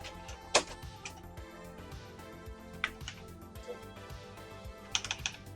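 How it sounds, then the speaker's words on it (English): Rapid keyboard typing with irregular clicks and a few sharper key strikes, close by and moderately quiet, with no voices. "The keyboard's working."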